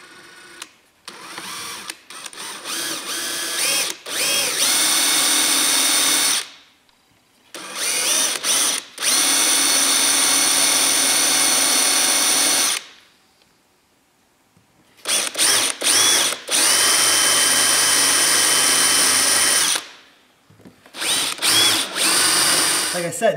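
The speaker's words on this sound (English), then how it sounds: "I'm gonna drill these out here, like I said, just enough to get this handle off." Power drill boring out rivets on an inside door panel of a 2007–2013 Chevrolet Silverado or GMC truck, loud whining bursts in three long runs separated by quiet pauses and short blips, close to the mic.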